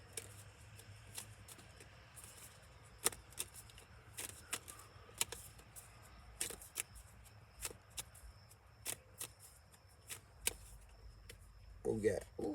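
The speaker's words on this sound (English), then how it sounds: "1 or 2 cards from you, Ma Kelly, for the highest good and harmony" Tarot cards being shuffled and drawn by hand, a steady run of soft riffling flicks and light taps that stays quiet and close throughout.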